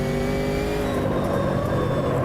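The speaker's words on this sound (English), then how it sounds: "Hear the car ground out that metallic clacky slam as we came back down there" A race car in the Automobilista 2 racing game roars at full engine drone, a dense continuous mechanical rumble with no distinct impact standing out over the steady noise.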